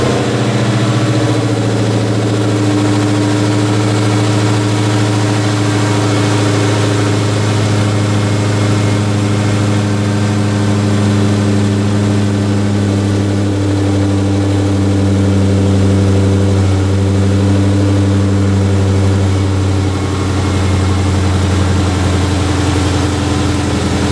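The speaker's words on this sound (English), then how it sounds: "Lower it down, start it up, and we're gonna hear that nice," Rebuilt 2018 Dodge Challenger Hellcat widebody V8 idling after a start, a loud, steady low engine rumble through the exhaust that holds unbroken throughout with no talk.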